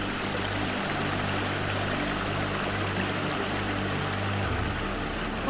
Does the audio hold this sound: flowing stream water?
yes